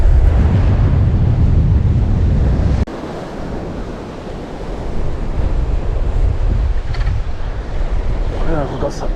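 Strong wind gusts roaring across an off-road campsite, a heavy low rumble with buffeting against the microphone that eases slightly midway, with faint surf-like wash underneath.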